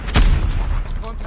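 Gunfire in the Call of Duty Mobile video game: one sharp, loud shot with a booming tail, followed by quieter battlefield noise.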